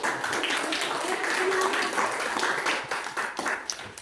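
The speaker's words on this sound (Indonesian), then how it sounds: "Tepuk tangan dulu." Students in a classroom clap together for a group after its presentation, giving a moderately loud, scattered round of claps with some voices mixed in.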